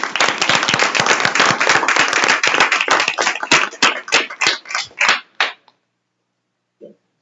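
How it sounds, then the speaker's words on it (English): A round of applause at a school board meeting honoring a basketball team, with dense steady clapping from a roomful of people that thins into scattered claps and stops, followed by one brief clap. "Let's give them a round of applause"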